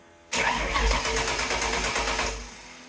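A small block Ford V8 cranks and fires up after a belt change, breaking suddenly into a loud close rumble with a fast chattering pulse that settles toward idle.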